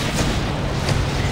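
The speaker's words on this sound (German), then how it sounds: "die explodieren" Rumbling explosions in the sci-fi shooter Mass Effect 2, a dense continuous roar of booms and blasts with heavy low-end, loud and sustained throughout with no clear gaps.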